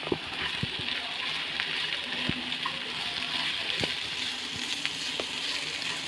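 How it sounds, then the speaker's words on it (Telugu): Water poured into a pan of spiced anchovy curry, with chili powder already stirred in, gives a steady hissing sizzle broken by a few sharp clinks. No one speaks. "కలుపుకున్నాక వాటర్ వేసుకోవాలి"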